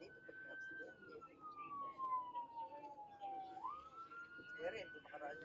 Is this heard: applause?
no